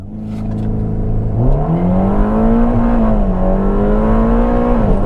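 A Ferrari Roma Spider pulls away under full throttle, its engine note climbing loud and close before dropping at an upshift and then climbing again.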